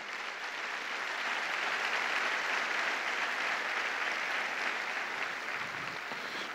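Congregation applause at a Sunday church service, a steady, dense wash of clapping that carries on at an even level for several seconds, with no voices over it.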